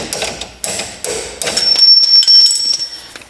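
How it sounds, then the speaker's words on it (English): A rubber mallet knocks a stuck nut out of a shock absorber while fitting Öhlins coilovers on an R33 Nissan Skyline GT-R, giving four quick close thuds followed by a metallic ring and rattle. "we're gonna use a rubber mallet to hit it out"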